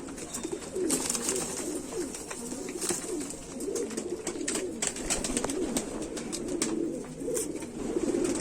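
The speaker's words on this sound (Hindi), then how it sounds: "golden teddy Kabutari" A golden teddy Rampuri pigeon coos in repeated low, rolling calls, close and steady, with faint chirps and small rustling clicks in the background.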